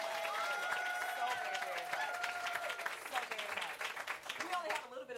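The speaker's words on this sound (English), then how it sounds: "Let's give them a round of applause." An audience applauds a couple, a full, continuous round of clapping with voices and cheering mixed in, fading near the end.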